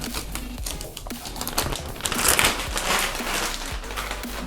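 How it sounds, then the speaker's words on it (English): Transfer tape being peeled off a vinyl design on a car magnet made with a Cameo 4 cutter, producing close crinkling and crackling with small sticky snaps that grow louder as the peel continues. "Now I can remove the masking tape or the transferring tape, and I'm gonna start from this side here."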